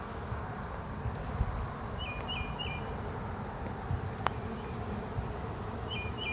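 Honeybees at a beehive give a dense, steady buzzing hum throughout, close and continuous, with a few faint bird chirps in the background.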